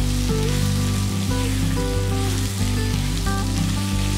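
Small shallots sautéing in hot oil for a South Indian fish kuzhambu give off a steady, even sizzle throughout, with a low electrical hum beneath and no talking.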